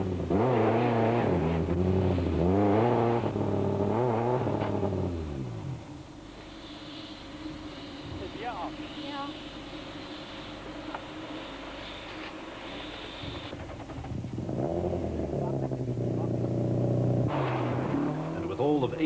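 Engine of a VW Golf rally car in the 1993 Tour de Total revving hard through rising and falling gear changes. It fades to a quieter idle in the middle, then revs loudly again as it pulls away.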